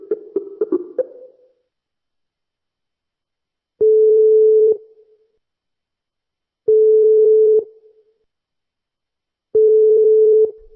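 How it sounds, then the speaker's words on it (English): Phone call placed to a number in Germany, heard as a brief burst of dialing tones followed by three evenly spaced, steady ring tones with silent gaps between them and no answer. "Let me just dial her number real quick."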